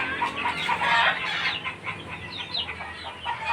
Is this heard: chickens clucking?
yes